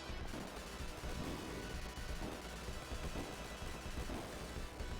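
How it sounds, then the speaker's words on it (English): Dense, continuous barrage of enemy gunfire and explosions from the Genesis video game Mercs on hard mode, loud and busy throughout with repeated overlapping shots and crashes, no talking. "So loads of enemies are going to be opening fire on us."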